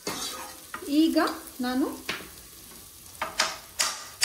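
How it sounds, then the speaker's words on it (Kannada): Flour and butter are stirred in a frying pan with a soft sizzle and repeated scraping strokes. Another person speaks briefly over the stirring early on. "ಮೈದಾ ಮತ್ತೆ ಸ್ವಲ್ಪ ಬೆಣ್ಣೆ ಮಿಕ್ಸ್ ಮಾಡ್ಕೊಳ್ತಾ ಇದ್ದೀವಿ."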